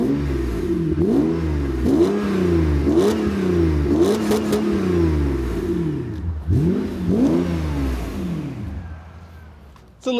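A Mercedes SL600 with its muffler deleted revs repeatedly, each blip rising and falling in a loud, raspy exhaust roar heard close up, with short pauses between pulls and a quieter settle toward the end.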